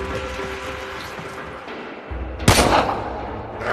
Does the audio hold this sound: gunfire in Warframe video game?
yes